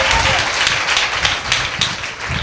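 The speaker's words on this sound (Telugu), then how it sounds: "కొట్టాలి చప్పట్లు, కొట్టాలి చప్పట్లు" Congregation clapping in unison during a church sermon, a loud, steady rhythmic applause that fills the room and continues without pause.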